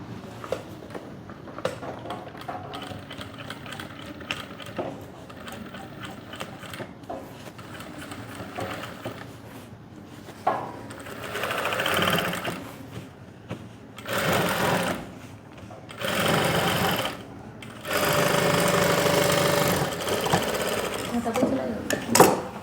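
A sewing machine stitches the fly of Korean-style pants in several bursts of fast, even whirring that grow longer and louder toward the end, with someone talking between and over them.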